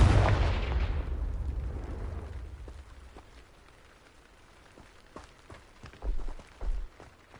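A Confringo spell explodes in a Hogwarts video game: a loud booming blast at the start that rumbles and fades over a few seconds, followed by scattered crackling debris and a couple of dull thuds.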